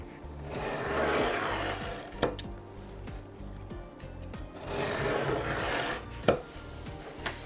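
A handsaw cuts a wooden shelf board for a DIY collection box in rhythmic back-and-forth rasping strokes, with a couple of sharp knocks between passes, fairly quiet and close.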